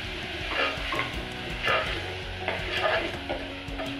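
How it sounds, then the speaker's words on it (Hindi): A spoon stirs salt, turmeric and chili powder into mutton korma curry in a pot, with steady scraping and stirring strokes over a continuous sizzle of frying. "मैं अब इसमें सारे नमक, हल्दी और मिर्च डाल दूंगी और अच्छे से और एक बार चम्मच को हिला लेंगे"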